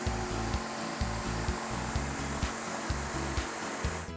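A wooden board for a birdhouse is cut with a power saw, steady rhythmic buzzing with regular strokes about every half second, close and continuous throughout with no talk.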